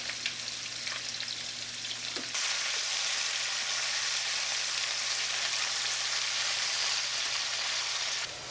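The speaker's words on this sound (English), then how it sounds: "So we're going to fry these up in that same oil." Potatoes frying in oil in a pan, a steady broadband sizzle that jumps louder partway through and holds constant, close up with no talking.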